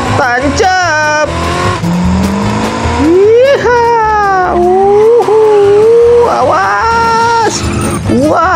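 Video game car, a Blade, accelerating down a steep slope in a racing game, engine revving in rising and falling sweeps over steady game music, loud and close, with tire squeals mixed in.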